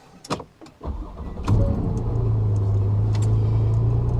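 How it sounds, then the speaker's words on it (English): A 2014 Porsche 911 Carrera 4S coupe with PDK gearbox and sport exhaust: a few light clicks, then the engine fires up about midway through and settles into a steady, close, deep rumble, with no talk. "enough talking about the car. Let's drive the car."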